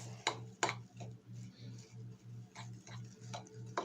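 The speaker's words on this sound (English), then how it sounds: "Then we're just going to mix all that" Brown sugar and cinnamon being stirred together in a bowl, a soft rhythmic scraping with a few sharper clinks of the utensil against the bowl, close and quiet over a steady low hum.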